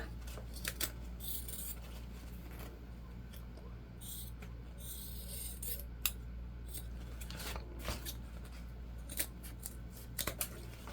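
Scissors snip through fabric for sewn summer beach pouches, producing a series of quiet, close crisp cuts in irregular bursts over a low room hum.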